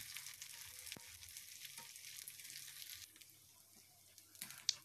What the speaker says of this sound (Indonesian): Lalu goreng 100 gram teri tawar